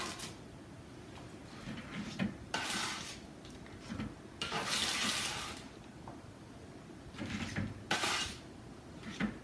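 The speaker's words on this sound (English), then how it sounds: "We just want to make sure to get them off of this hot pan." Freshly baked chocolate chip cookies being lifted off a hot baking pan in a home kitchen, with intermittent clattering scrapes and clinks of metal on the pan in separate bursts over quiet room tone.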